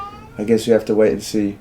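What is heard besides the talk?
cat meowing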